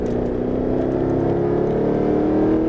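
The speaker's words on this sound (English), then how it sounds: "squeeze throttle coming out" A Mercedes-Benz SLS AMG accelerating at full throttle out of a corner on a Las Vegas track, a loud, steady engine roar heard from inside with a slowly rising pitch.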